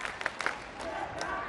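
A crowd roars and cheers for its champion at a pencak silat final, a dense wash of noise with scattered claps under a commentator's talk.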